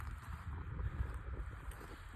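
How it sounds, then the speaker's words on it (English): Wind gusting across an open grassy coastal spot at sunrise, a low rumbling buffet against the microphone that swells and fades over a couple of seconds, with no talking. "oh that wind"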